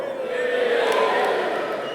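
An audience at a livestreamed Get in the Ring pitch event in the Netherlands cheers and shouts in a sustained, dense roar of many voices, loud and continuous.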